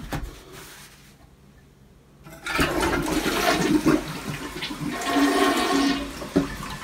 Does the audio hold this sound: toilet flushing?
yes